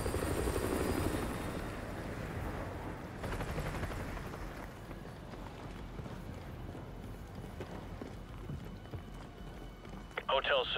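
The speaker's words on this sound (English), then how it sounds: "Enemy helo patrolling the perimeter." An enemy helicopter patrols in the Call of Duty Modern Warfare 2 Campaign Remastered game, giving a faint, continuous rotor thrum and rumble with voices talking at times.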